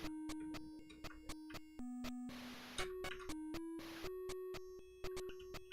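Chiptune music from a PICO-8 game plays: square-wave notes in short rhythmic bursts with stepping pitches and noisy percussion hits, fairly quiet and with no voices.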